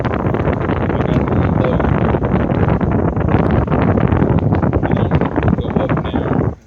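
A Chevy blower motor fan that is stuck on runs steadily as a loud, close whooshing rush of air that stays unchanged for about six seconds before it suddenly cuts off.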